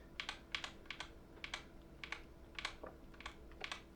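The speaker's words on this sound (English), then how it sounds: "the keyboard is very responsive. If I press the Windows key," Rapid, light clicking of MCHOSE JET 75 magnetic-switch keyboard keys being pressed in quick irregular bursts, close and fairly quiet, with no voices.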